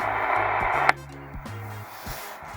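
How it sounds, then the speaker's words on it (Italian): Medium-wave AM radio tuned to 1 MHz, giving a steady broadband hiss that abruptly narrows and quiets as a homemade two-transistor oscillator carrier takes over, leaving a low hum with faint tonal whines. "ho una radio sintonizzata a 1 MHz in onde medie, possiamo sentire il fruscio."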